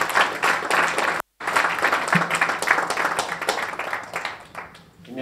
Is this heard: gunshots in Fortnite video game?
no